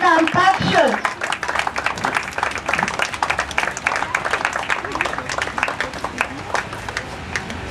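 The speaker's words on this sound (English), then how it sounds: "Parents, please put your hands together and welcome Takshal." At a graduation day ceremony, parents in the audience clap in a sustained round of applause after a brief opening voice, many hands at moderate distance with children's voices mixed in.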